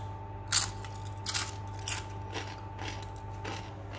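Crisp chicken pastilla pastry with almond filling is bitten and crunched up close, giving a series of sharp crackling bursts spaced through a quiet background with no talking.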